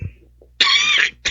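A throat clears harshly once, a rough broadband rasp lasting about half a second, followed by a shorter second burst, close to the listener.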